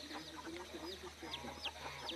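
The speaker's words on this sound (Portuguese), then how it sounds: "Gravando essa galinha que elegeu esse lugar aqui para proteger as criazinhas dela" Hen clucking near her chicks on a rural farm, a steady run of soft, close clucks and chirpy calls, with faint peeping bird calls layered over a constant low background hum.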